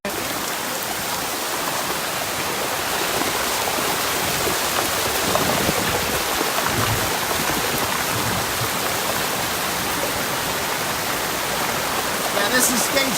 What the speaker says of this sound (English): you can see the water that's gushing down